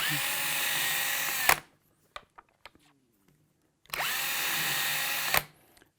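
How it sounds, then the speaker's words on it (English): Drill spinning a Frankford Arsenal universal precision case trimmer to trim brass cartridge cases, two loud steady whirring bursts of about a second and a half each, separated by quiet clicks and taps as a case is handled. "As I'm pushing in, I've got a good amount of RPMs on my drill here."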